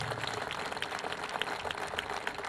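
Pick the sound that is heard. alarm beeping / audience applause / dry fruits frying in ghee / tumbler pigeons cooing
audience applause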